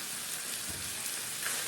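Homemade spicy bacon sizzles steadily in a pan while being stirred for pasta all'amatriciana, a dense, even crackle with no voices.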